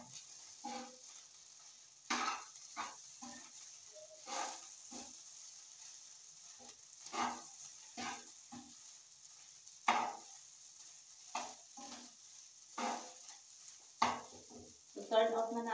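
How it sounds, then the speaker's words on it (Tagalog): Leftover chicken curry reheats in a frying pan over a flame: a faint steady sizzle with irregular bursts of spatula scraping and stirring against the pan, no voices. "Init ko na lang dito sa fry pan."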